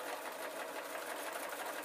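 A sewing machine runs continuously at steady speed, stitching an oil cloth messenger bag with a dense, even whirring hum heard up close.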